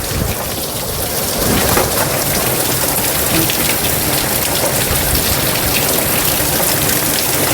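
Heavy rain pours down continuously, a dense, loud hiss of drops striking surfaces, steady throughout with no voices.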